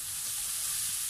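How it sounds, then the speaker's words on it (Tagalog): Onion and garlic sauté in a hot pan with browned pork for pork afritada, giving a loud, steady, close sizzle that hisses evenly throughout without any voices. "So ngayon ilalagay po natin ang ating sibuyas at bawang and then ituloy lamang po natin ang ating paggisa."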